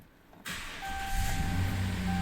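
A Ram 1500 pickup truck engine that ran low on oil idles with a steady low rumble and a faint whine after it starts up, continuous and fairly close, with no talking.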